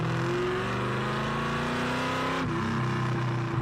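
A Daytona's engine revs loud and close, a continuous rich roar with rising harmonics that dip briefly before climbing again.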